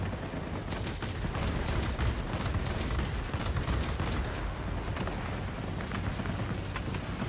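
Aircraft guns in a World of Warplanes air battle, with a Soviet Yak-3T fighter among ground attack planes, fire in dense rapid bursts that crackle continuously and loudly for the whole stretch.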